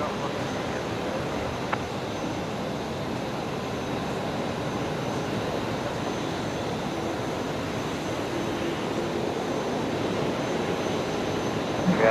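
An airplane takes off from runway 01 right at Brisbane Airport, a steady broadband engine roar that holds level and loud throughout, heard from a distance with no voices.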